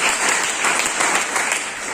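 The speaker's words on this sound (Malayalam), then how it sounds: "നല്ലൊരു കയ്യടി അടിച്ചാൽ നിങ്ങൾ വരവേൽക്കുന്നതാണ്" A seminar audience claps together in a sustained round of applause, a dense, even patter of many hands that stays loud throughout, with no one speaking over it.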